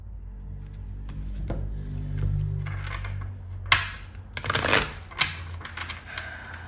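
Tarot cards are shuffled close up, with a run of quick papery riffles and taps that come in short bursts, and no speech.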